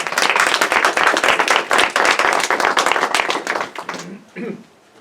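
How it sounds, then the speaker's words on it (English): Lecture audience gives a speaker a round of applause, loud brisk clapping that thins out and fades near the end, followed by a brief voice. "let's give him a round of applause"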